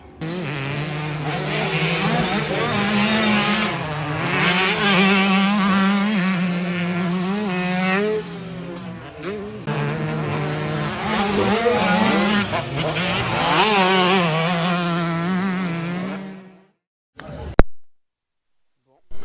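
A 2022 Yamaha YZ 125 GYTR motocross bike rides a track in Italy, its loud engine wailing continuously and rising and falling through revs before cutting off near the end.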